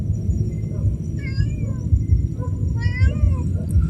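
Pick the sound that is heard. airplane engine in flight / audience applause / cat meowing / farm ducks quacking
cat meowing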